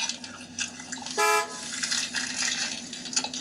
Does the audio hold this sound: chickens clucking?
no